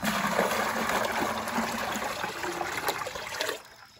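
Fungal-dominant compost tea is poured through a paint strainer, a steady close splashing gush of liquid that runs for several seconds before cutting off abruptly.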